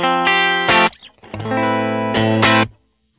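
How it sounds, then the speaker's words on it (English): A few clean electric guitar chords with the compressor pedal bypassed, strummed and left ringing, with brief gaps between them, ending in silence. "I'll bypass it and clean tone without the compressor"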